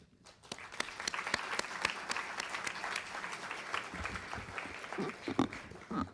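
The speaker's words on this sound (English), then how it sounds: "I'd like just to give a round of applause again to our member companies" Audience applause at a partnership meeting in Washington DC, a steady wash of many hands clapping with a few sharper individual claps, moderately loud and sustained throughout.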